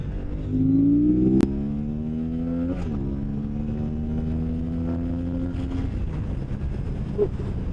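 An Aprilia RS 457 motorcycle climbs an open road, its engine droning loud and close as it revs up through the gears, with rising pitch sweeps, a brief sharp click and steady wind rush.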